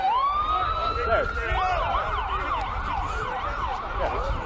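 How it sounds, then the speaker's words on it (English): Police sirens wail in the background at an outdoor rugby match, a rising tone settling into a steady warbling yelp with a second siren overlapping, moderately loud over a low crowd and ambient murmur. "the police sirens in the background as well"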